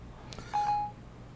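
A mobile phone answers a Siri voice command to place a call with a short electronic chirp and a steady beep tone, quiet over a low background hum, with no talk.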